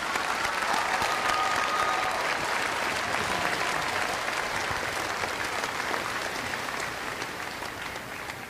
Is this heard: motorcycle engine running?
no